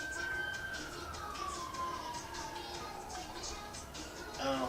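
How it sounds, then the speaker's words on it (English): An emergency siren passing by outside, a long wailing tone sliding slowly downward as it goes by, moderately loud over faint background noise. "there's a daily ambulance, or daily lit up siren going by"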